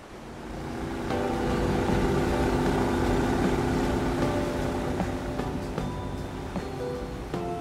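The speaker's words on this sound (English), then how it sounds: "I do have a boat that the owners put into the water, so I use that to get to town." A motorboat engine drones steadily at close range, a continuous low hum with water noise, holding strong for several seconds before easing slightly.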